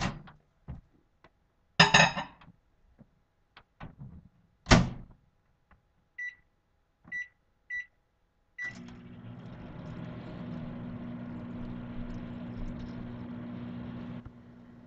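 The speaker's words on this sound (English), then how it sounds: "While that's in the microwave" A few clicks and clunks, three short beeps, then a microwave oven hums steadily for several seconds with a Pyrex container inside before stopping.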